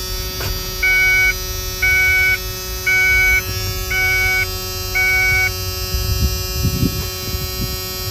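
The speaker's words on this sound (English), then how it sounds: "Well, that buzzer's got to go." The dashboard warning buzzer in a 1994 Ford F150 4x4 sounds five evenly spaced electronic beeps of about half a second each, over a faint cab hum, followed by a few soft knocks.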